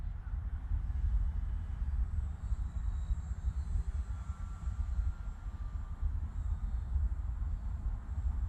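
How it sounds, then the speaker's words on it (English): A radio-controlled airplane flying a pass with full flaps gives a steady, distant engine drone that holds at a low, even level for the whole stretch, with faint background noise and no talking. "Now we're gonna go on this pass to full flaps, and let's see what happens there."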